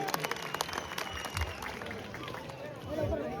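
Audience applause at a live folk music show in Satana, a burst of many hands clapping amid crowd noise, fairly near, with a swell in the final second.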